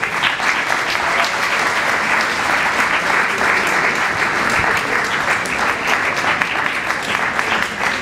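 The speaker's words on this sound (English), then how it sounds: "give them a good round of applause" A large audience at a school event claps in a strong, continuous round of applause, loud and dense with steady intensity and no talk over it.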